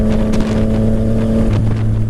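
Loud, close motorcycle engine with non-stock modifications, a thick steady drone with a slight pitch drop near the end, heard alone.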